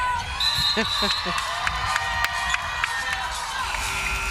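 A crowd at a professional women's basketball game in a Nashville arena roars steadily, with scattered shouts, sneaker squeaks and ball thumps from the court.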